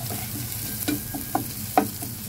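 Spice paste sizzles in a frying pan as it is stir-fried for nasi goreng bumbu tausi fried rice, a steady close crackle broken by a few sharp scrapes of the spatula.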